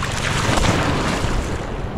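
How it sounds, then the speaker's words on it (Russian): Sea waves off Phuket, heard from a small boat, roar as a loud, continuous wash of water and wind noise, with no talking. "О, волны какие"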